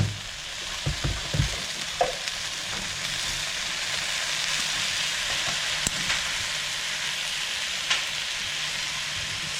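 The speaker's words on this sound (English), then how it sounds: "It's sizzling quite nicely now." Sausage sizzles and crackles steadily in a hot pan, with a few sharp clinks and stirring scrapes scattered over nearly ten seconds.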